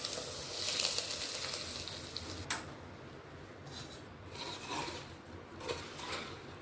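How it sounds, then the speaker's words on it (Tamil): Hot oil carrying spluttered mustard seeds is poured onto mango pickle, giving a soft, rasping sizzle with a sharp crackle early on and fainter popping after it. "எண்ணெய் கடுகு பொரிஞ்சு ஊற்றிக்கலாங்க"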